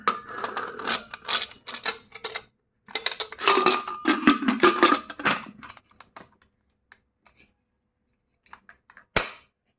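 Clattering metal handling as the lid of a pressure cooker is fitted and closed in a home kitchen, a dense run of clicks and knocks, a second burst after a short pause, then a few faint taps and one final sharp clack.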